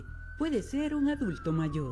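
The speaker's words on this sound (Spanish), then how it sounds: "Esa es una ambulancia." Ambulance siren, a faint steady tone slowly dropping in pitch as it passes, heard under a person talking close by.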